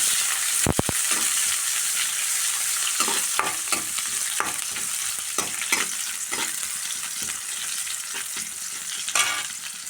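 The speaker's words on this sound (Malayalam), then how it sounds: "കുറച്ച് ചുവന്നുള്ളി നമുക്ക് ഫ്രൈ ആക്കണം" Shallots fry in a pan for a home-style curry, a steady sizzle with scraping stirs and occasional clanks of the spatula, close and continuous, no voices.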